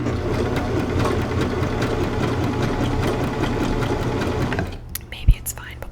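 A domestic sewing machine stitches fabric in a steady, continuous mechanical whir with fast rhythmic needle pulses, then stops and leaves quiet handling and a soft thump; a whispering voice sits faintly under it.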